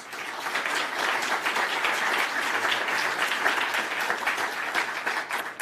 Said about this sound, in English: Let's give them one last round of applause of thanks.